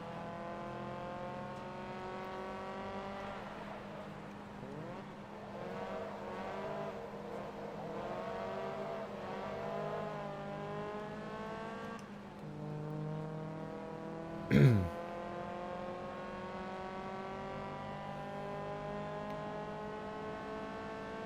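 A race car in the video game Forza Motorsport 2 drones steadily as its engine rises and falls through repeated gear shifts, with a brief sharp impact-like burst midway and no talk.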